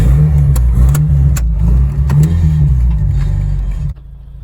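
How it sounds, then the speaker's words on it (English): A Mazda RX8 engine accelerates loudly and close by with a steady, droning rev that builds for about four seconds, then drops off abruptly near the end. "You gotta really give it a little gas."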